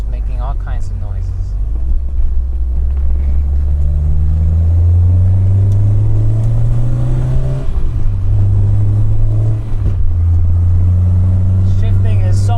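A Peugeot 205 GTI engine drones and revs steadily from inside the cabin while driving, its pitch rising through the gears with a brief dip at each shift, loud and continuous throughout.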